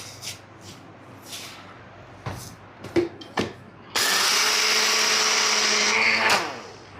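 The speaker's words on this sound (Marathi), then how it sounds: "याच भांड्यामध्ये आता आपण साखर देखील बारीक करून घेतोय" A kitchen mixer grinder powders sugar, with a few clinks and knocks of handling before the motor starts, then a loud, steady whirring grind for about two seconds that cuts off abruptly.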